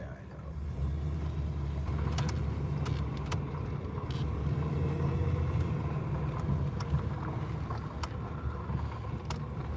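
A 1996 Dodge Dakota on studded tires rolls along a busy road at night, a steady low rumbling drone with road and wind noise throughout, and people talking inside the cab.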